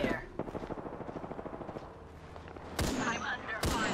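Rapid automatic gunfire in a video game rattles in a quick, even burst at moderate distance, followed after a short lull by a few louder, sharper blasts.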